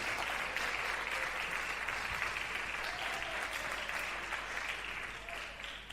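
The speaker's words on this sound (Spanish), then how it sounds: "dele un aplauso fuerte al Señor" A church congregation during a Spanish-language Bible study service applauds strongly in praise, dense clapping from many hands in a reverberant room, fading slightly at the end.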